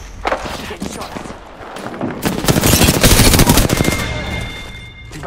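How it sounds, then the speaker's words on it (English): Rapid bursts of video game gunfire rattle through a shooter battle, dense and loud, swelling in the middle with overlapping shots and booms amid game effects. "She's getting shot at."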